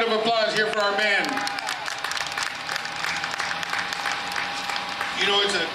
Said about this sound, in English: A round of applause here for our men.